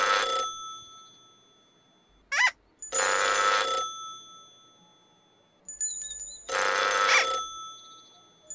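An old-style telephone bell rings loud and close in two long bursts of bright metallic trilling, separated by silence and brief electronic chirps.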